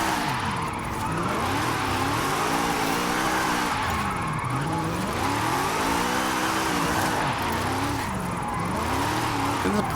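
A 2019 Zenvo TSR-S with a 1624 hp rear-wheel-drive drift tune revs in Forza Horizon 5, its engine pitch swinging up and down in repeated surges alongside tire squeal, loud and continuous.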